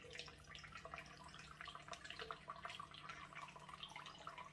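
Steady trickling and dripping water, fairly quiet, with small irregular drops and splashes continuing throughout, as water drains from a freshly watered monstera plant pot.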